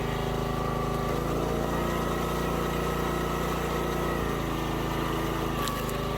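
A log splitter engine runs steadily nearby at a constant idle-like drone with a low throbbing hum, unbroken for the whole stretch and with no voices.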